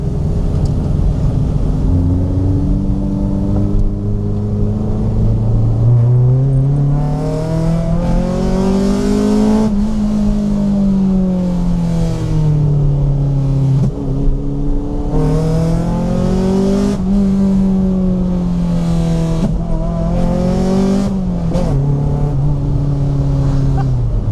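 A Honda B16A VTEC four-cylinder engine in a Honda Civic 1.6i EE9 revs up and down repeatedly, climbing to a high-pitched wail and settling back, loud and close throughout.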